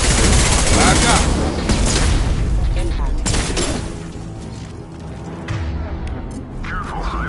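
Heavy gunfire in a Mass Effect 2 firefight: dense, loud volleys of shots and bursts that thin out midway, with a voice speaking over the combat.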